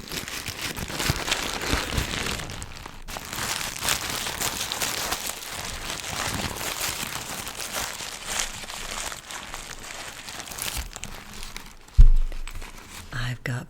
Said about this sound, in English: I just put this tissue paper in because it sounds so